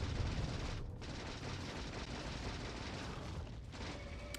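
Explosions rumble in the video game Factorio: Space Age, a dense, continuous barrage of booms and crackling blasts with no clear breaks and no talking.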